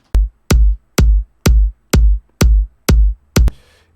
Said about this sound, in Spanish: El bombo pues suena así.